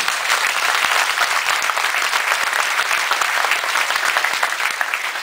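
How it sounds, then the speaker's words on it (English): An audience at a Veterans Day gathering applauds an Air Force Reserve officer and pilot with sustained, even, full-room clapping and no talking. "Please give him a round of applause."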